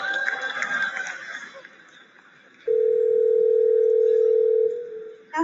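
A phone line clicks, then a steady ringback tone sounds for about two seconds as an automated assistant calls a hair salon, preceded by faint background chatter.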